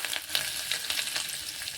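Close, steady sizzle of mustard seeds, cumin and coriander leaves hitting hot oil, a bright crackling hiss with small pops scattered throughout.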